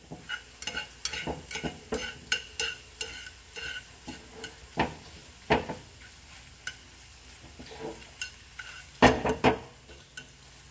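An egg fries in oil in a pan, a faint sizzle under frequent irregular clicks and taps of a utensil against the pan, with a louder cluster of knocks near the end, close and without speech.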